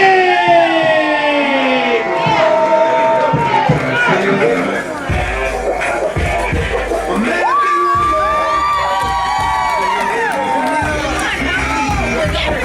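A wrestling crowd cheers and whistles loudly after a pinfall win, a dense sustained roar of voices with shrill whoops and shouts, steady from start to finish.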